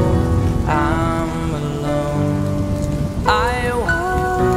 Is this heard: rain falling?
yes